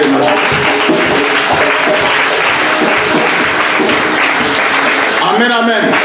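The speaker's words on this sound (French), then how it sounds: "Acclame très fort Jésus-Christ." A church congregation applauds loudly and acclaims Jesus Christ, steady dense clapping with cheering voices mixed throughout, close and continuous, with a voice rising near the end.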